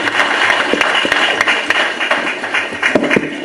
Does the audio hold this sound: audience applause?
yes